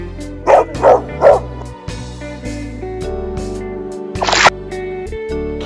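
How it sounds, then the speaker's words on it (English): A dog barks three times in quick succession, fairly loud and close, set against a bright children's music backing with no talking. "Dog."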